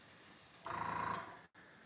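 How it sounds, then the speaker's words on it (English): An airbrush with its needle pulled out blows a strong spray, a short hissing burst lasting under a second, close and fairly quiet, then tapering off. "I pull the needle out, and then I give it a strong spray."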